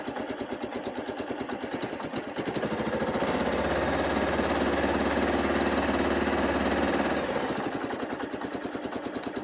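A 1995 Bayou 4x4 ATV engine idles with a steady, throbbing putter, swelling louder in the middle before settling back, close by with no talking.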